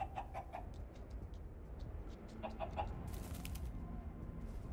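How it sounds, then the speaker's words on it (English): A chicken clucking in Minecraft Story Mode, a few soft, short clucks in small clusters, faint beneath a low hiss of background noise. "It's a chicken."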